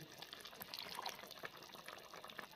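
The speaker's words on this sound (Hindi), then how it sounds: "और अब मैं इसके अंदर ये डाल दूंगा ऑयल" Cooking oil poured into a clay kadai that already holds beef tongue curry, giving a steady, soft liquid trickle with faint sizzling and dripping throughout.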